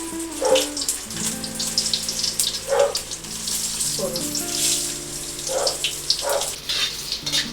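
Dried red chillies and bay leaves sizzle in white oil in a wok, a steady close-up hiss with recurring louder spurts and bubbling, plus a faint low hum beneath.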